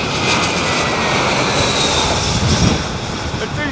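A jet airliner roars loud and close at Heathrow Airport during a stormy spell, a broad continuous rushing engine noise with a faint whine, steady throughout with a slight swell near the end.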